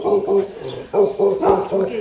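A dog at a house in Panauti, Nepal barks in a steady run of short, close barks with a brief pause, mixed with voices talking nearby.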